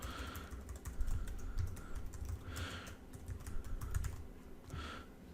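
Keys tapped on a computer keyboard while entering a name into a first-person game template, a fairly quiet run of irregular clicks with a few louder bursts spaced across the stretch and no voice over them.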